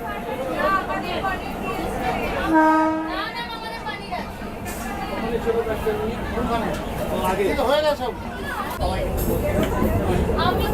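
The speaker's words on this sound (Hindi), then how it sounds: "अभी अपनी ट्रेन पहुंच चुकी है हावड़ा जंक्शन" A passenger train pulling into Howrah Junction, with a rumbling rail hum beneath crowd chatter and someone talking, and a brief tonal horn-like blast partway through.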